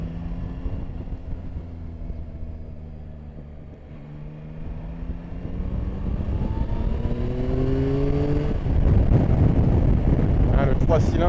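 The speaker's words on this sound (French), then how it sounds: "le 3 cylindres il chante bien" A Yamaha Tracer 9 GT three-cylinder motorcycle engine hums steadily then climbs in pitch as it accelerates, close and continuous, with wind rushing past the microphone.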